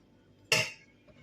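A metal spoon clinks once against a dish while scooping minced meat onto lavash, giving a single bright, close clink with a short ring-off in an otherwise quiet kitchen.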